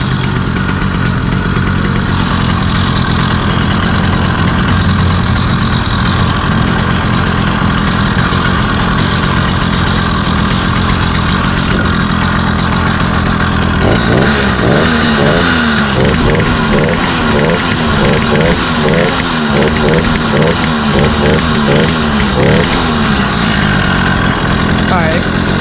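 A small 80cc two-stroke motorcycle engine idles loudly and steadily while warming up, a rough buzzing drone right up close, its note pulsing and rising briefly partway through.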